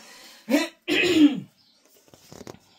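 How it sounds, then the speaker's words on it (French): Someone clears their throat up close, with two short, harsh rasps and a brief pause between them, followed by quiet small mouth noises. "Je vais me racler la gorge"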